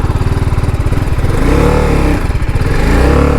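A 2023 TVS Apache RR310 motorcycle engine idling and revving nearby, a loud, steady throbbing beat that swells and rises in pitch partway through.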